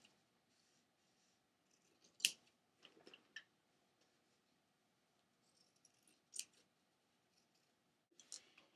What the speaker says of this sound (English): I'm just going to cut right along that neckline seam